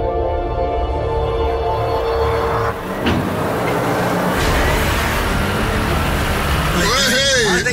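Volvo truck hauling 750 tonnes in crawling gear one, a loud, continuous low engine rumble and drone that fills the scene, with a brief dip and a rising whine near the end.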